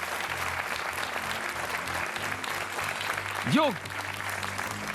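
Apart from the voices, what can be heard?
studio audience applause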